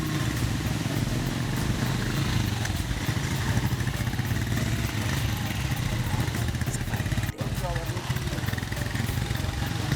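A motorcycle engine runs steadily and loudly throughout, a continuous close rumble with a voice talking over it.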